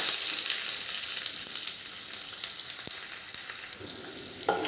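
Chopped onion, green chili and curry leaves fry in hot oil for a dry moong dal, a dense continuous sizzle close by, with a few faint clicks and stirring scrapes.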